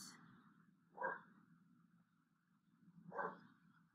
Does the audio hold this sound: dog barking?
yes